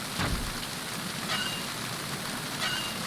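Steady rain falls outside the ship in Metal Gear Solid 2, a continuous soft hiss with occasional louder splashing patters, moderately faint and without voices.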